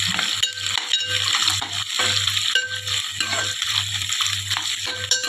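Oil sizzles loudly and steadily as gongura curry fries in a pan, with a spoon scraping and stirring against the metal in a regular rhythm.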